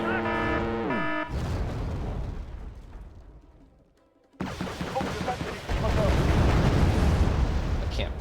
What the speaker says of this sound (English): Wait, artillery fire.